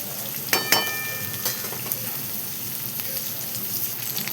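Egg fried rice with chopped tomato tossed in a hot pan, a continuous hissing sizzle with a few sharp clanks of the spatula near the start, close and steady.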